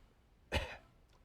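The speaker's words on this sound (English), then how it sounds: "So, will you cough for me," A single short, sharp human cough bursts out mid-clip, close and fairly loud, with quiet room tone before and after.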